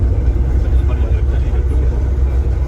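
A small GAZelle minibus crowded with about 19 passengers, children among them, drives along in Turkey, its steady low engine and road rumble running continuously beneath loud nearby talking.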